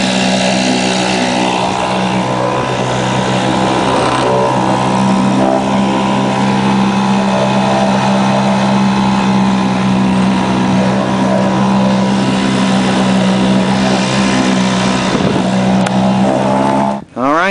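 A small outboard motor drones steadily and loudly throughout, with a constant buzzing hum close by before cutting off abruptly at the end.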